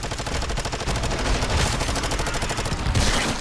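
Rapid SMG fire in MW3 Zombies, a fast steady stream of sharp gunshots rattling on for several seconds, loud and close, with no speech over it.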